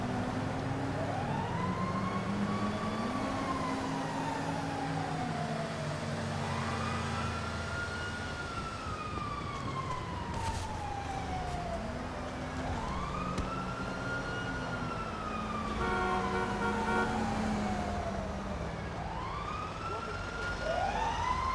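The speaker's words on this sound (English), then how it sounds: "I must have injured somebody because I hear the ambulances" Emergency vehicle sirens wailing in the video game GTA V Online, long rising and falling tones overlapping and sweeping past, with a fire truck among them, steady and fairly loud over low engine rumble and some voice.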